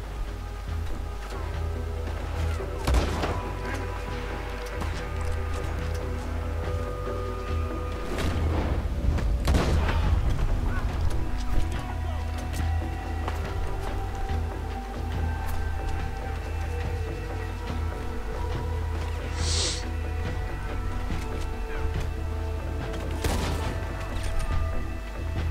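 Explosions and gunfire in Red Dead Redemption 2, as a mansion is partly blown up: scattered booming blasts and sharp cracks over a continuous low rumble, lasting the whole span.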